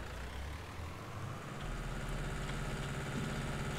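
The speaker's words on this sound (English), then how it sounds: "we're going to hop in our tractor and trailer and do exactly that." A tractor engine idles in the farming video game Farming Simulator 19, a steady low rumbling drone with a constant hiss, holding an even level throughout with no speech.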